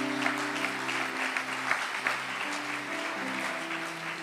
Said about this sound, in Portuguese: aplauda o Senhor aí